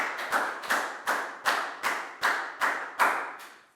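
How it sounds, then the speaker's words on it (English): Steady, rhythmic clapping in a Year 4 classroom for a pupil, about eight sharp claps evenly spaced, close and moderately loud, with no talking. "Big round of applause for Nadia,"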